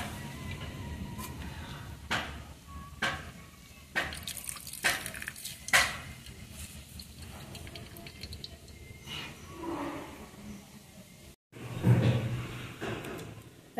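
Water squeezed by hand from salted grated papaya, uneven drips and trickles with soft squelching handling noises at close range, followed by a brief pause and a louder wet squeeze.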